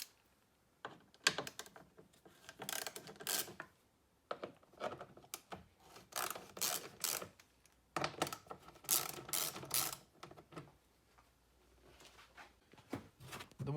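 A ratchet undoes the 10mm bolts holding the air intake on a Lexus IS200, giving close, irregular runs of rapid clicking broken by short pauses, handling knocks and scrapes, with no talking.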